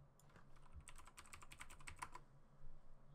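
Typing on a computer keyboard while entering a login password, a quick run of soft, close key clicks with faint room hum and no voices.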